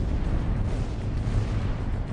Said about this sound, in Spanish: El ruido de las explosiones parece eternizarse.